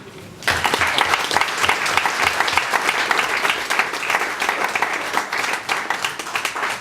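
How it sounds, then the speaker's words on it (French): A crowd at a May Day celebration applauds their deputy mayor after a speech, loud sustained clapping that starts abruptly and keeps a rapid, dense rhythm throughout. "Rien que pour ça, on peut l'applaudir"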